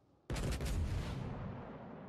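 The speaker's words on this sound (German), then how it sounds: "Schieße ich einfach mal drauf." Naval gunfire in World of Warships, a single heavy cannon blast that booms out suddenly after a moment of quiet, then rolls away in a long, slowly fading rumble, alone without talk.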